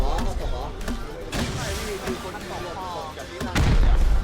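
Rapid gunfire from the survival game Rust, several sharp shots in quick succession over a busy mix, with a heavier burst near the end and talk mixed in throughout.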